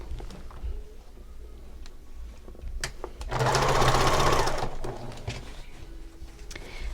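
A sewing machine stitches a 3/8-inch seam around a pillow sham in a steady, close, rapid whirring run of about a second and a half, set against quieter room noise.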